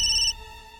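Mobile phone ringtone chiming loudly for a brief moment, a bright electronic tone that cuts off after a fraction of a second and leaves a fading ring.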